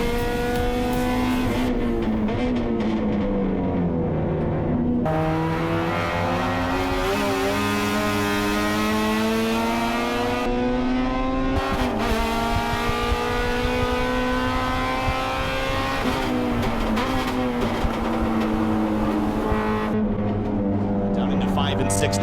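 Race cars in a Honda Civic race on a circuit, engines droning and shifting pitch as they brake and accelerate through corners, continuous and close with a commentator talking over it.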